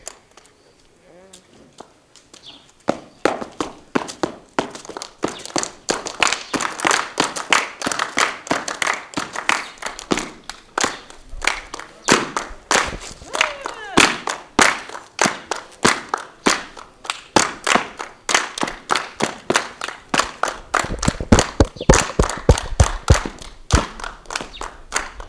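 An audience clapping in rhythm for a child performing a traditional Rwandan dance, steady rapid claps mixed with thumping footfalls that build louder, with voices heard in the background.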